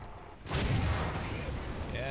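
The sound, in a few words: 17 pounder tank gun firing in video game War Thunder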